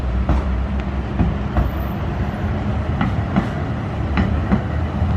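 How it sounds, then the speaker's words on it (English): A tram runs along the Antalya sea front, a steady loud rumble close by with rhythmic clickety-clack wheel beats over the rail joints and no talking. "they've got the 2 trams and they just shuttle back and forwards"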